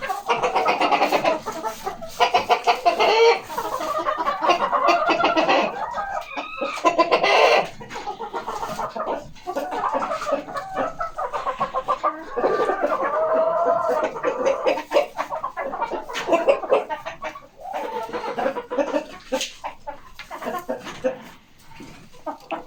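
Several chickens cluck and squawk continuously, close by and fairly loud, with overlapping calls and no talking.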